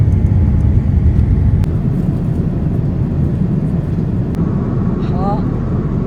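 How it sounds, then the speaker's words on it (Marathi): Inside the cabin of a British Airways plane on a London to Mumbai flight, preparing for takeoff, a steady, loud low engine drone fills the space, with faint muffled voices underneath. "प्लेन टेक ऑफसाठी तयार झालेला आहे"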